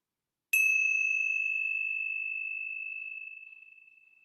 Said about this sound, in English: I'm just going to ring the bells just once for the bells of hope.